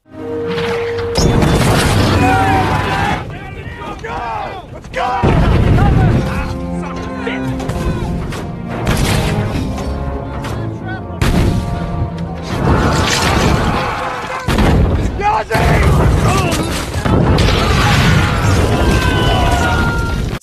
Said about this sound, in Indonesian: Nel lantas bertanya dari mana artileri ini menghujani kita